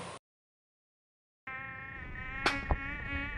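Close, steady whining buzz of a mosquito, starting after a brief cut to silence and holding for about two seconds with a couple of sharp bumps, no talking.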